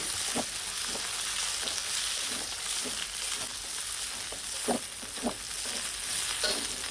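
Garlic, sliced carrot and capsicum stir-frying in oil for restaurant-style Chinese vegetables, a steady close sizzle throughout with scattered clinks and scrapes of stirring, no talk.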